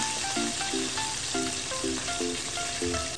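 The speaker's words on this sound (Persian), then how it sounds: "پیاز رو 2-3 دقیقه روی شعله کم تفت میدیم تا پیاز رو سبک و شفاف بشن." Onion puree fries over low heat in a pan after spices have been toasted for a creamy chicken dish, giving a steady, even sizzle that runs unbroken throughout, with faint clinks rising above it.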